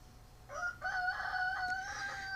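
A rooster in a front yard crows once, a faint, slightly distant cock-a-doodle-doo lasting about two seconds over quiet background.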